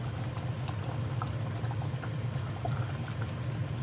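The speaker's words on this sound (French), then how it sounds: "En bouillant, ça va réduire." Sauce boils and reduces in a pot, a steady, soft bubbling simmer with faint pops and ticks throughout and no one speaking.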